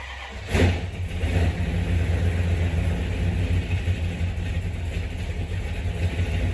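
A car that has sat for about a week cold starts with a quick loud crank, then catches and settles into a steady, rough idle with a low throaty rumble that holds close and even.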